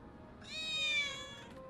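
A cat meows once, drawn out and fairly close, in the video game Final Fantasy 7 Remake, standing alone over a low background hum.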